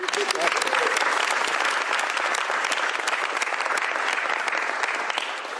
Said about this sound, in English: I'm going to give a round of applause just for that alone.